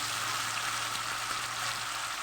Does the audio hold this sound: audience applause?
no